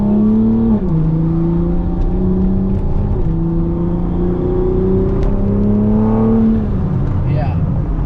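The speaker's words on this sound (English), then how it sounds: "Somebody just asked me to rev it." A Toyota Supra A90 fitted with a new intake revs repeatedly in loud, close bursts: the engine note climbs, drops back to idle and climbs again several times, with people talking faintly in the background.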